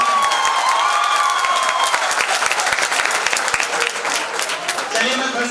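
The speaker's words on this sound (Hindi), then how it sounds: "एक बार आपके लिए तालियां होनी चाहिए ना" Loud, dense applause from an audience at a Holi festival honour ceremony at Banco Academy, Sikar, sustained steadily throughout with crowd noise and voices mixed in.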